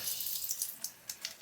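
Water hisses and trickles briefly from a pressure tank valve, with a few small spurts and splashes over the steady flow.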